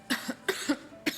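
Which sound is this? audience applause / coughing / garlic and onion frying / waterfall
coughing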